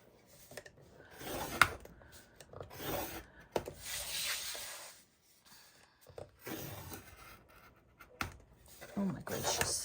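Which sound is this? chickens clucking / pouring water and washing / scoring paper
scoring paper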